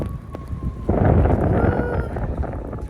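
Low rumbling wind buffets the microphone during heavy snowfall in Georgia, USA, surging louder after the first second and staying blustery to the end.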